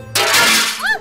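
A pane of window glass shatters in one sudden loud crash, with a bright spray of breaking shards that rings on and fades, followed by a short voiced exclamation at the end.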